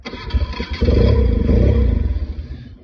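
A BMW R90S motorcycle with Dell'Orto carburettors starts on a little choke and a blip of throttle, cranking briefly before the flat-twin catches and runs with a loud, close, pulsing idle.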